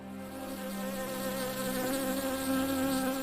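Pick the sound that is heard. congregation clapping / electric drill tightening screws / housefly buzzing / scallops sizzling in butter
housefly buzzing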